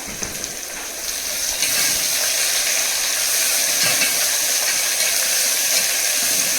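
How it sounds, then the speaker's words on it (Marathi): Chopped onion sizzles steadily in hot oil with browned garlic for a fried dal, a broad continuous frying hiss that swells slightly as it settles, close and loud with no voices. "आपला थोडासा लसूण लाल झालेला आहे, त्याच्यामध्ये आपण आता 1 बारीक चिरलेला कांदा ऍड करतोय"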